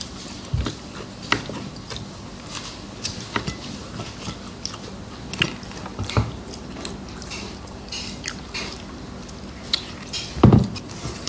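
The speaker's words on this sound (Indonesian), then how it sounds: "udang tuh kayak gini enak udangnya kriuk kentang kriuk" Crunchy fried shrimp and potato being bitten and chewed at close range, with scattered crisp crunches and soft mastication sounds repeating irregularly, one louder crunch near the end.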